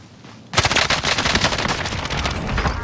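Video-game gunfire starts abruptly after a short quiet moment, then becomes a loud, sustained burst of rapid automatic shots with overlapping reports from close by.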